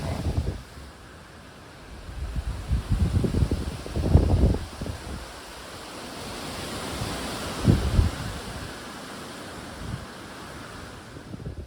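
Gusty wind on the Appalachian Trail in Shenandoah roars against the microphone in rushing swells, rising strongly around the middle and easing off between gusts, with no talking.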